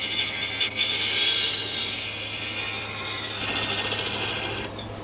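A lathe tool shaves wood on a turned multi-tiered lidded box, producing a continuous loud hissing scrape over the spinning machine's hum, steady then shifting near the end.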